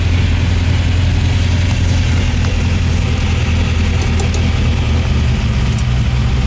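A 1971 Camaro SS engine idles steadily, a low constant rumble with a faint mechanical hum throughout, no revving.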